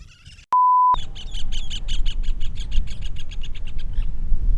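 A quick beep, then a dense burst of bird chirps and squawks repeating rapidly over a low rumbling background, fairly loud and close.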